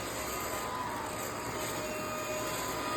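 A Eureka Rapid Clean Pro cordless vacuum cleaner runs on its low power setting on carpet, giving a steady, fairly quiet motor whir with a thin high whine and no change over a few seconds.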